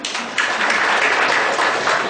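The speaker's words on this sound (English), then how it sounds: "A big round of applause for all of you." Brief applause from a conference audience at a tax-law workshop, a short burst of clapping that swells after a quiet start and holds steady for about two seconds.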